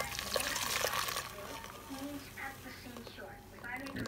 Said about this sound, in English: So I'm going to pour it back over here in my pan.